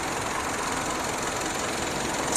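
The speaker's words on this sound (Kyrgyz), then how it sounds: "Мотор өтө ровно жүрүп турат." A used car's engine idles smoothly and evenly, giving a steady, unbroken hum that holds at a constant level throughout, with no voices.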